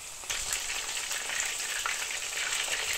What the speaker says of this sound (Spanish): lo vamos a echar en aceite bien caliente.